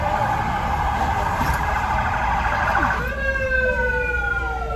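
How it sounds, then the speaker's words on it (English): A police car siren wails loudly from close range, its rising and falling tones clear over traffic rumble, then shifting pitch as the vehicle passes by on a road in Kwahu, Ghana. "That's a police car."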